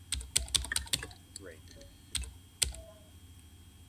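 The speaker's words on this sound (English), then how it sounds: "Oh, I have to type in a name?" Keys clatter on a computer keyboard in short bursts of taps as a name is typed in the game Emily is Away Too, heard close, with a brief spoken word near the start.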